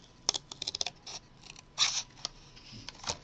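Scissors snipping close by, a quick run of small crisp cuts followed by a longer rasping cut and a few scattered snips, quiet and alone.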